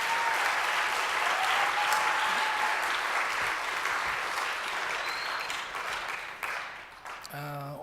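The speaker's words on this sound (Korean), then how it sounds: "박수를 치려면 같이 치고" A crowd claps steadily in dense, sustained applause that tapers slightly toward the end, where a voice briefly begins speaking.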